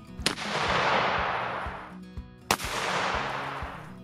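An Arisaka Type 38 rifle in 6.5x50mm fires twice at an outdoor range, each shot a loud, close crack that trails off into a long, washing echo.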